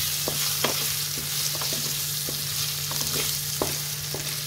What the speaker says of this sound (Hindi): उसको मीडियम फ्लेम में इसको थोड़ी देर हम पकाएंगे ताकि ये हल्का सा रोस्ट हो